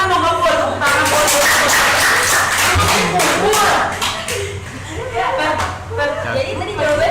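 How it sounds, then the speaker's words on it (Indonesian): Classroom clapping from students, scattered taps mixed into steady close talk with chatter and a chuckle. "Tepuk tangan dong"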